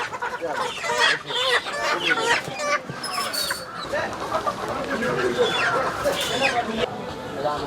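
Chickens cluck repeatedly at a busy morning market that sells fresh greens and poultry, with voices talking nearby throughout.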